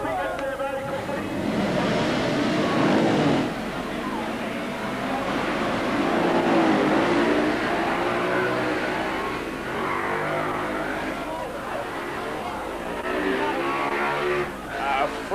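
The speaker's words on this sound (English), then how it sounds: "Frantic start down there on the grid as the 40 bikes got away" Forty motorcycles roaring away from the grid at the start of the 1978 Castrol 6 Hour race in Australia, a loud sustained blur of revving engines heard at a distance beneath a commentator talking throughout.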